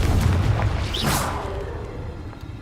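A Confringo fire spell in Hogwarts Legacy bursts into a deep, rumbling explosion that swells and fades over a couple of seconds, with no speech.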